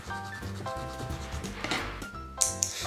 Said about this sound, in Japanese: ちょっと角がガタガタなんでこの辺を削っていっちゃいましょうか